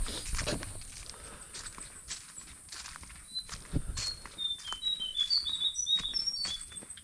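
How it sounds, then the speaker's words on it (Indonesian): Birds chirp and trill on a forested trail on Mount Ungaran, bright high calls growing busier in the second half, mixed with occasional footsteps and rustling close by. "Dan di sini tuh suara burungnya asik banget gitu."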